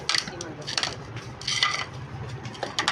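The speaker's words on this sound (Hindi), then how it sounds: "गुफरान अच्छी तरह मिक्स करना है" A spoon clinks and scrapes against a bowl as ingredients are mixed, with irregular metallic taps and scraping strokes close by, no talk over it.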